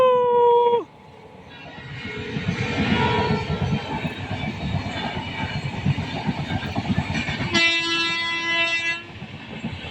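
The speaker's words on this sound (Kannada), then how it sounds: "ಜಸ್ಟ್ ಈಗ ಟ್ರೈನ್ ಬರ್ತಾ ಇದೆ." A train passing close by on a railway track near a temple, opening with a loud horn blast, then a rising rumble and rhythmic clatter of wheels, followed by a second long, loud horn near the end.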